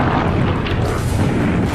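A dense, rumbling barrage of heavy 40mm aircraft cannon fire, as from World War II P-40 fighters over the North African desert, with booms blurring into one continuous roar throughout.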